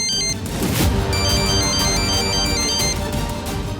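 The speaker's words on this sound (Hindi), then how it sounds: "अरे फिर से फोन आ गया।" A phone ringtone plays loudly and steadily as a repeating electronic melody, with a brief clatter near the start.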